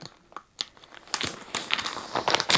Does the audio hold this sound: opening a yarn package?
yes